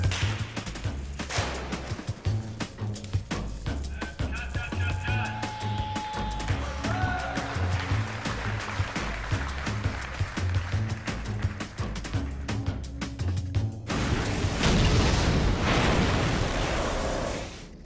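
A miniature tower model on a film set for The Matrix is destroyed as an effect, giving a long, loud, continuous roar of crackling bursts and rapid popping debris impacts, with a dense rumbling surge near the end.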